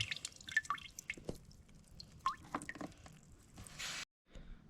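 Irregular drips and small splashes of water falling from the front of an Audi A4 B5 with the bumper removed after a washer and headlight test, close and fairly quiet, ending in brief silence.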